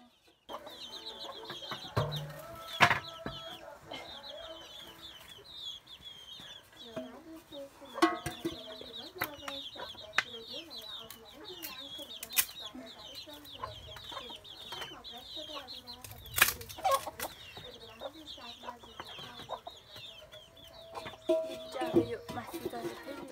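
Chickens clucking in a rural village yard, with repeated close, moderately loud clucks scattered throughout and a person talking in between.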